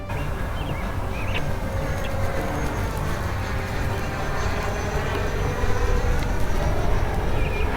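A Freewing Banshee or Vulcan RC jet at full throttle gives a continuous, fairly loud broadband roar that holds steady and swells slightly near the end, heard as it passes overhead outdoors.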